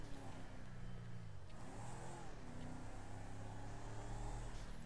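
Car engine revving in the video game GTA 5, a steady mid-pitched engine drone that swells and rises in pitch with acceleration, loud and continuous throughout with no talking.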